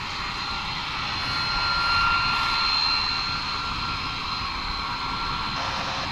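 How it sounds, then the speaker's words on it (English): Boeing 747 on an airport apron, pushed backwards by its tug, giving a steady, loud broadband jet engine roar with a faint high whine that holds throughout without pause. "747 still going backwards as its tug is doing its job"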